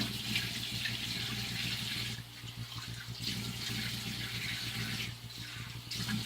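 Running tap water streams steadily into a sink as a face is rinsed during a skin care routine, a continuous close hiss with small dips in level.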